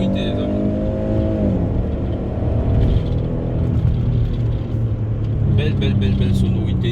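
A Porsche Cayenne's engine rumbles loudly nearby, dropping from a higher rev into a deep steady growl and then rising slightly again, with muffled voices in the background.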